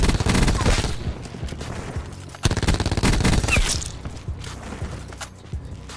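Gunfire in the video game Call of Duty Black Ops 4 comes as rapid automatic bursts of close, loud shots, stopping briefly and then resuming, with a voice talking over the action.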